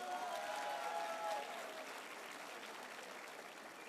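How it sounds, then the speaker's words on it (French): Audience applause fills a gala show after a cheerleading (pom-pom) routine, a dense steady clapping wash from a large crowd that stays loud for the whole stretch and eases slightly after the first second and a half. "On peut les applaudir très fort, s'il vous plaît."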